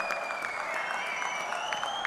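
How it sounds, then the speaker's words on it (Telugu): Sustained audience applause fills a political party gathering, steady dense clapping from a large crowd close by, heard alone with no voices over it. "గట్టిగా చప్పట్లు కొట్టి మనస్ఫూర్తిగా అభినందించండి"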